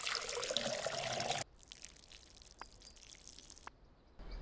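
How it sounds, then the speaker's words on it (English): Plants being watered in the video game Schedule 1. A loud rushing burst of water opens the clip, then cuts to quiet ambience with a few faint drips and clicks. "Let's water these plants real quick"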